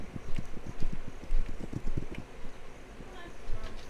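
Horses' hooves in the open-world game This Land Is My Land clop in a quick, close, rhythmic run of dull thuds, fading out partway through with a soft wind-like noise behind them.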